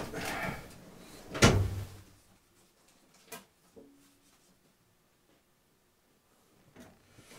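A drawer on an African HMV 102 gramophone is opened, giving one sharp wooden knock and slide, then a few fainter knocks and clicks with quiet gaps between them, heard alone in a still room.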